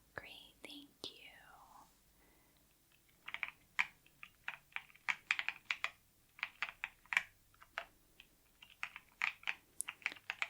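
Soft, rapid clicking of computer keyboard keys at a quiet hotel check-in desk, irregular bursts of close taps after a brief murmured voice at the start.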